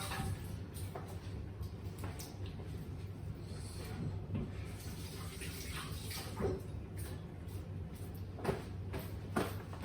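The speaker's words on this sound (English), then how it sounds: "Just wash my hands because, you know, we don't want to get salmonella." Hands are washed under a running tap in a home kitchen while baking banana chocolate muffins: a steady stream of water splashes continuously, with soft rubbing and a few faint knocks, and no talk.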